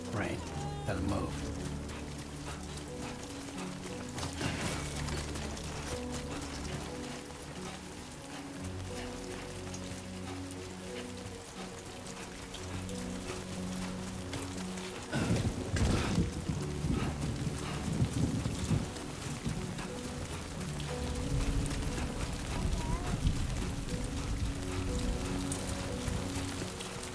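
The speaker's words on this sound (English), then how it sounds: "Great. Rain. Gotta move." Steady rain falls in the video game Death Stranding 2, a dense wash with rumbling swells and a louder burst midway, under game music and a voice.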